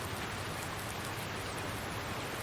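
Steady rain falls on a farm in the Farming Simulator 19 video game, a dense, even hiss that holds constant throughout with no talk over it.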